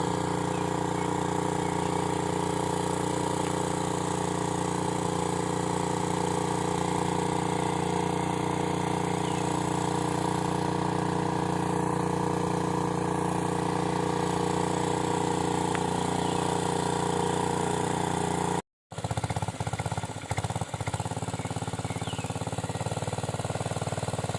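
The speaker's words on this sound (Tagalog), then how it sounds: "yan na umandar na yung makina" A small gasoline engine on a water pump drones steadily and loudly, with a brief cutout near the end before the running noise resumes.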